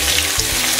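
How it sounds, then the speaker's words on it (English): Thinly sliced onions hitting hot oil in a pan for lamb rogan josh, a loud, dense hiss of frying filling the brief moment. "we're gonna cook these until they soften up, become nice and translucent, and slightly caramelized"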